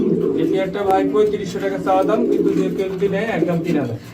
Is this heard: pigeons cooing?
yes